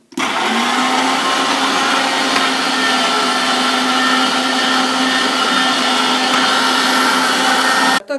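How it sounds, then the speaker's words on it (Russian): A loud, steady electric meat grinder whirring and grinding continuously for several seconds as it minces beef, starting and stopping abruptly. "И сейчас мы пропустим его через мясорубку."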